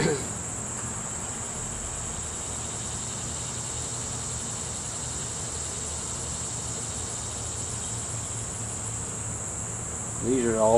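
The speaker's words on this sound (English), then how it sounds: "These are all bees, field bees coming back, got pollen" A steady, dense buzz of many honeybees around a hive as field bees return with pollen, continuous and fairly loud, with a constant high whine over the droning hum.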